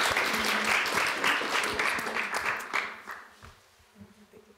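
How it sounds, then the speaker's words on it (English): Audience applause welcoming a speaker at a gathering, a dense wash of many hands clapping that fades out over a few seconds toward quiet. "So please join me in a round of applause"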